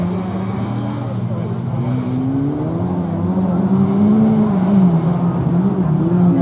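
Fiat and Volvo cars race in a youth folk race, with loud engines droning and revving upward as they pass. A commentator's voice runs over the engine noise.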